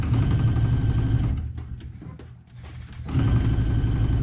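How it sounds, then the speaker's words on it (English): A sewing machine top stitches a vinyl backpack, a close steady mechanical whir that stops for about a second and a half, leaving faint handling sounds, then resumes at the same pace. "So I'm gonna sew, again, I'm gonna top stitch 1/8 of an inch away."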